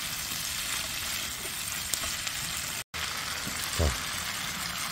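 Webfoot octopus (jjukkumi), about eleven of them in seasoning sauce, stir-frying in a pan with a steady broadband sizzle, a short gap near the middle, and a brief clatter of stirring toward the end.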